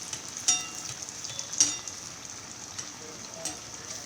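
Curd kebabs deep frying in oil in a pot: a soft, steady sizzle with a few brief, sharp pops, heard close and fairly quiet.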